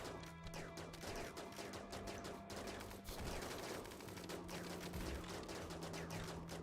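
Gunfire during a RimWorld colony battle, a dense, faint crackle of overlapping shots and bursts with a few harder impacts, running continuously without speech.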